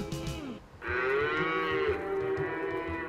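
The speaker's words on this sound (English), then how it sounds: "a roving band of Norwegian cows has just shown up here" Norwegian cows moo in long, drawn-out lowing calls, one after another, close by and fairly clear over a soft background.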